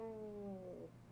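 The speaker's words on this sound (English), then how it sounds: "Sounds like a cat when he's angry" A skeleton enemy in the Wild Arms video game lets out a drawn-out, wavering growl like an angry cat, loud and alone, sliding downward and fading near the end.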